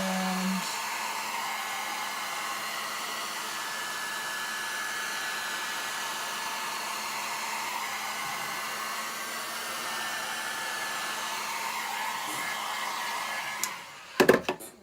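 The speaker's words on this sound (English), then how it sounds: "go through with my blow dryer" A blow dryer runs steadily and close for most of the stretch, drying alcohol ink on a canvas, then cuts off with a few brief clunks and handling knocks at the end.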